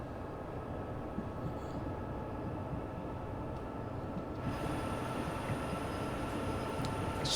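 An SD70ACE diesel locomotive running in Train Sim World 4, a steady low rumbling drone with rail rattle that holds constant throughout, close and continuous.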